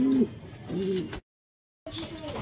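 Soft, close cooing of pigeons being paired with a champion bird, two short rolling coos, then a brief dead silence before the birds' murmuring resumes.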